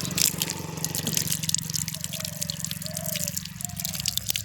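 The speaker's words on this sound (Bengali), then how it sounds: "এই কলটা না আমাদের সবসময় 24 ঘন্টা জল পড়তেই থাকে" Tap water pours steadily onto fresh coriander leaves being washed, a continuous close splashing and trickling with a faint low hum beneath.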